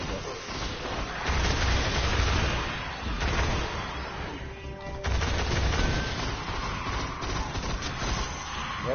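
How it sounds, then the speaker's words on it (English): Bursts of machine gun fire in the Destiny: Rise of Iron shooter, loud rattling volleys in several waves with short gaps, booming low-end thuds mixed in, no talk. "They're using machine guns, I guess."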